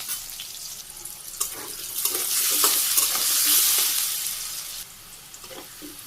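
Pitha frying in a pan of oil in a Bangladeshi village kitchen, a steady close sizzle that swells louder mid-way with occasional stirring scrapes, then eases back down, no voices.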